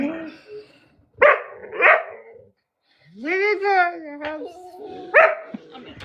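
A pet dog barks and yips in short bursts at close range, mixed with people chatting on a live stream.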